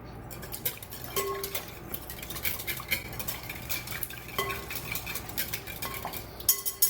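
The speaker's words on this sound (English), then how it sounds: "let's whisk this until it is smooth" A salad dressing seasoned with salt and pepper is whisked in a bowl, making quick, uneven metallic clinks and scrapes of the whisk against the bowl, close by, with no voices.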